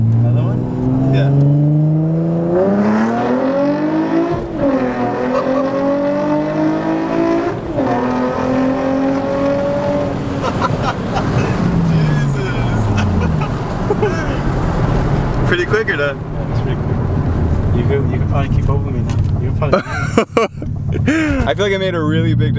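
A Nissan 350Z fitted with a Motordyne plenum and spacer revs repeatedly, its pitch climbing and falling in several pulls toward 7,000 RPM, loud and close, with people talking over the engine.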